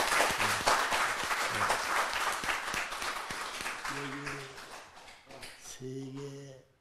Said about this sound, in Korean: 박수 보내주시면 고맙겠습니다.